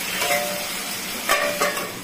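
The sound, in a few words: taro and potatoes frying in spiced masala in a pan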